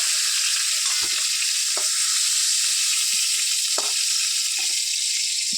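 Cauliflower fries in a pan with a loud, continuous hiss, broken by a handful of short scraping stirs.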